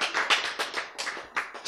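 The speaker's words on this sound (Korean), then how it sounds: "박수 쳐요" A church Bible lecture audience breaks into a short burst of clapping, with several quick, uneven rounds of hand claps close by and no talk over them.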